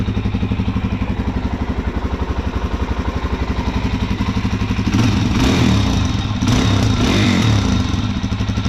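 Loud, close idle of a stock 2022 Suzuki DRZ 400 SM motorcycle engine, a rapid steady thumping pulse that swells into revs around the middle, then settles back.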